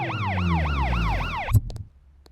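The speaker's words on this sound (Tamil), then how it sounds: "ஆம்புலன்ஸ்." An ambulance siren wails loud and close in a rapid rising-falling cycle over engine rumble, then cuts off abruptly with a thud, leaving brief clanks and a quiet tail.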